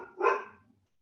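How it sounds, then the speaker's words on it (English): A single short dog bark, fairly faint and slightly distant, fading quickly into silence. "I hear barking dogs."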